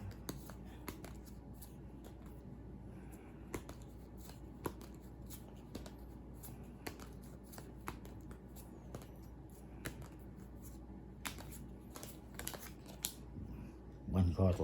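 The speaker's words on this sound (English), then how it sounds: "you're going to deal out all the cards" Playing cards dealt one by one onto a table in a card game, giving a steady run of soft flicks and snaps, close and fairly quiet, with a louder clatter as the last cards land.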